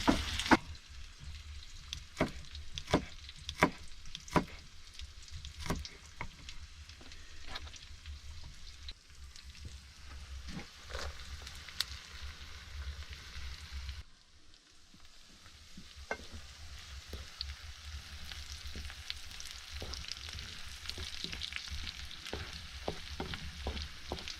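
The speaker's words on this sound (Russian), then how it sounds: "На прогретую сковороду добавляем лук, мелко нарезанный чеснок и обжариваем это до золотистой корочки." Onion and garlic fry in a pan with a constant sizzle, broken by repeated sharp scrapes and clacks of stirring, briefly quieter midway.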